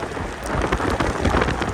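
Steady rain hissing and pattering heavily outdoors during an Ausom L1 Max electric scooter ride, a constant wash of noise with a low rumble underneath, no voices.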